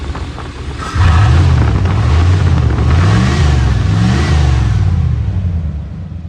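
A Chevrolet Caprice Classic with a tuned 5.0 V8 revs up sharply after a brief idle, holding a loud, deep, rumbling exhaust drone with rising and falling throttle blips up close.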